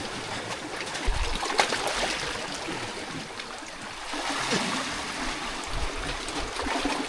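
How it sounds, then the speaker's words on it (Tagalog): Shallow water waves rush and splash continuously over slippery rocks on an island shore, a steady broadband wash with occasional low thumps. "medyo mababaw pa at medyo may kalikutan lang yung alon"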